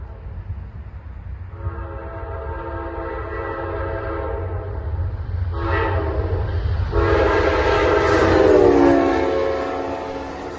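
Amtrak 79 passenger train rolling past with a loud, sustained multi-tone horn in two long blasts, the second swelling closer over a steady rumble of the train.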